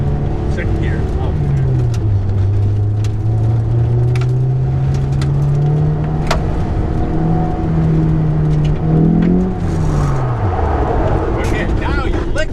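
A BMW on a wet skid pad at Lime Rock Park, its engine revving in second gear with a sustained, wavering tone that climbs and drops near the end, under a driver and instructor talking.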